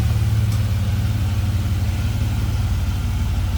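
A 4.3 liter Vortec V6 swapped into a 1950 Chevrolet 3600 pickup idles with a loud, steady low rumble and even pulsing, heard close up in the engine bay.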